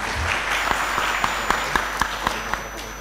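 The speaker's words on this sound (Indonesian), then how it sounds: "Tepuk tangan untuk kita semuanya." A crowd at a 2024 capacity-building training session for PPPK staff at the East Java provincial secretariat bursts into applause, a dense clapping wash with a few sharper individual claps standing out over roughly three seconds.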